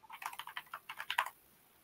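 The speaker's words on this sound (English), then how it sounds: "so let's type in user principal name" A short run of about a dozen quick, evenly paced keystrokes on a computer keyboard, crisp and close but quiet, ending in silence.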